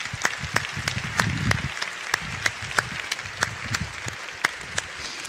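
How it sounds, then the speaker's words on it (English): Applause at Florida Atlantic University's 2014 State of the University Address, thinning to sparse, distinct claps that ring out at a fairly regular pace over a low rumble, fading in strength toward the end. "Let's give them a great big round of applause."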